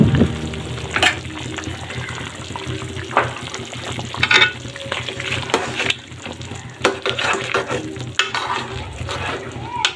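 Beef with ground cinnamon, cardamom, ginger and garlic paste is stirred in a hot pan, a steady loud sizzle with scraping spatula strokes and wet stirring sounds throughout.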